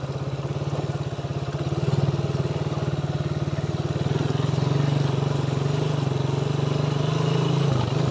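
A motorcycle ridden along a rough forest road, its engine chugging in a steady, close rhythm that swells slightly as the ride goes on, with clattering and jostling beneath it.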